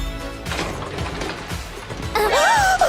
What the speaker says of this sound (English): What's that? Elevator.